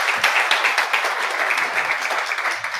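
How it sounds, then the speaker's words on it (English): Audience applause at a keynote session of an innovation summit, steady dense clapping from a conference crowd that holds at an even level throughout with no talk over it. "we round of applause,"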